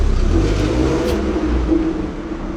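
Pickup truck fitted with new shocks pulls away on a drive, its engine humming and revving steadily with broadband road and wind rush, loud and close throughout.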